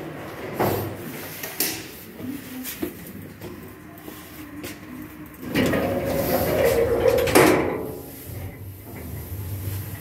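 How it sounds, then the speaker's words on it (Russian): Otis MCS-300 elevator doors in Moscow slide shut with a sustained rumbling rush and a firm thud, preceded by scattered clicks and bumps, moderately loud and close. "Громко дверь хлопнули."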